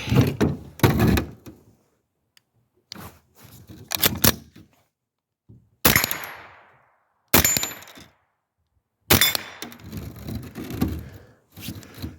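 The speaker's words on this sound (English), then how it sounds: "Let's get another mag in here." Metal clacks and thunks of a rifle magazine being fitted into an M10 rifle, a string of sharp, close mechanical knocks separated by short pauses, with no talking.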